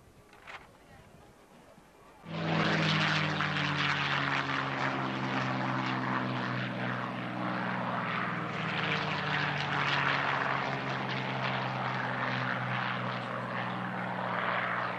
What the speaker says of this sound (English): V12 Merlin engines.